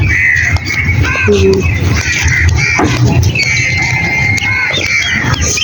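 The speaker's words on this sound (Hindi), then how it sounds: "यहाँ पर कौवे बैठे हैं," Crows caw repeatedly from nearby in a rural village, harsh calls scattered over steady outdoor background noise while people talk.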